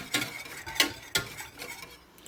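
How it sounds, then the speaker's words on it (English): Spoon or whisk stirring condensed milk into a pumpkin pie mixture in a bowl, with a few distinct scraping strokes early on and softer swirling after, close and fairly quiet with no talking. "we are going to give it a really good mix and mix all of that condensed milk"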